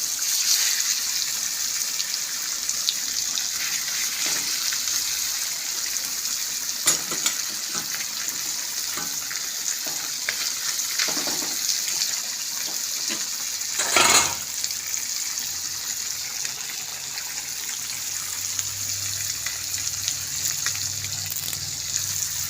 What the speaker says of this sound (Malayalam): വറുക്കാനായിട്ടുള്ള മീൻ പറക്കിയിടും